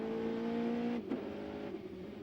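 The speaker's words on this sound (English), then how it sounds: "Down a couple of gears, this tight left-hander goes a little bit wide there." A race car engine at an American Le Mans Series round at RFK Stadium drones steadily, then drops pitch abruptly as it downshifts a couple of gears into a tight left-hand corner, heard from a distance with no voices.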